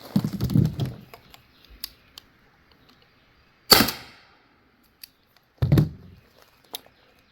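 Byrna LE launcher fires over a chronograph outdoors, three sharp, loud cracks spaced a couple of seconds apart, with small clicks and a brief rustle between them.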